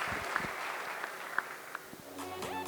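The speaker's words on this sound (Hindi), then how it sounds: "एक बार जोरदार तालियां हो जाए." Audience applause at a business event in a hall, a steady wash of clapping with a few sharper claps standing out, moderately loud and continuous for a few seconds.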